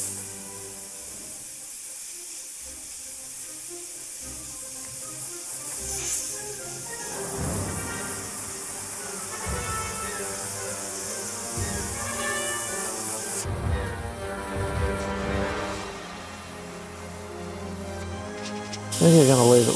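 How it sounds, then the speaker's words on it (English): An airbrush spraying paint onto a Star Wars Legion stormtrooper miniature gives a steady, close hiss that runs through the whole stretch, with brief pauses and shifts in the spray and a louder burst near the end. "going to go over the existing colour and recolour it with the airbrush"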